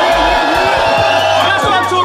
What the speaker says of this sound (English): make some fucking noise. Let's go!